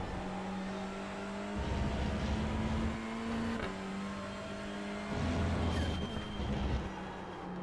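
Race car in a TCR racing game at Donington Park, engine note dropping as it brakes into a corner, steady loud engine drone with shifting pitch and downshift blips throughout.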